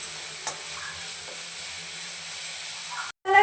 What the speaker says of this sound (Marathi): आता 1 मिनिटभर छान असा परतवून घ्यायचा आहे, म्हणजे कच्चापणा जाऊ द्यायचा आहे आपल्याला।